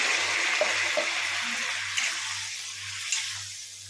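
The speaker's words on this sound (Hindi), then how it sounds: "अब इनमें हम पानी ऐड कर लेंगे। पानी ज़्यादा नहीं ऐड करना है।" Water poured into a cooking pan of potatoes, bell peppers and onions: a loud hissing splash and sizzle that gradually fades, with a few light clinks of stirring and a low steady hum beneath, no voices.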